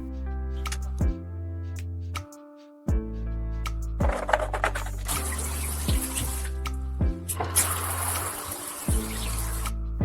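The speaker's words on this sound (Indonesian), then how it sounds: "Dengan bagian atas botol plastik, Anda dapat menyesuaikan sudut aliran air dari keran." Tap water gushes through the cut top of a plastic bottle in bursts of splashing and hissing flow, set against loud, steady, stepped tones that run throughout.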